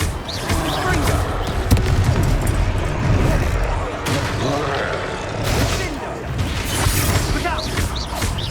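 Fiery explosions from the Confringo spell in Hogwarts Legacy on PS5, heavy booming blasts and crashing impacts rolling continuously through loud combat, with shouted voices mixed in.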